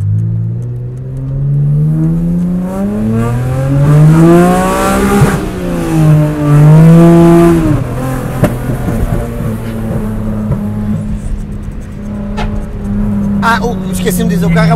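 A Mitsubishi FTO engine drives and revs, its harmonic drone rising and falling with gear changes and throttle, loud and close from inside the car, with people talking over it in places.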